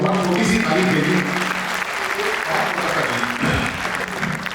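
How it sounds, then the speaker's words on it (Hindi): Audience applause at a Hindi poetry gathering (kavi sammelan) held at NHPC headquarters, a dense, steady roar of many hands filling the hall throughout, with faint voices mixed in. "थोड़ी सी तालियां दे दीजिए, बहुत छोटी सी ताली दे दीजिए।"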